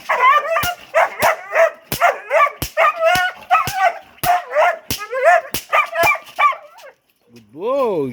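A dog barks in rapid, sharp bursts during its first bite-training session, the loud close barks repeating steadily before a whimpering, rising-and-falling whine at the end, with no talk over it.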